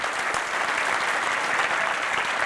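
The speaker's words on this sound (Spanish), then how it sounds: "Dale un aplauso al Señor." A church congregation breaks into steady, full applause during a sermon, a loud continuous wash of clapping without speech.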